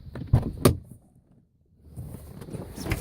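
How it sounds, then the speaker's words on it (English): A door on a 2012 Chevrolet Impala is opened, giving two short mechanical clicks and clunks near the start, followed by a quiet pause and soft background noise. "open the door."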